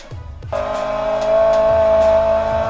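A Honda Prelude with a swapped H23 engine idling loudly nearby, a steady exhaust drone with faint rhythmic pops over its low rumble.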